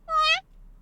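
A single clear cat meow, bright and harmonic, lasting under half a second inside a visual novel game, followed by quiet background.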